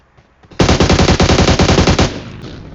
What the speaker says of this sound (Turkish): Vur onu Can abi.